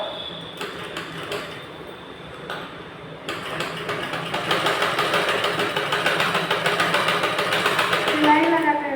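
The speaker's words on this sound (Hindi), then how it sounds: "धागे को इस तरह से सिलाई लगा कर हम कंप्लीट करेंगे।" A sewing machine stitching piping onto a blouse, a steady close mechanical whir that grows a little louder over time while someone talks over it.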